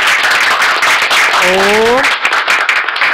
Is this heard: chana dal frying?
no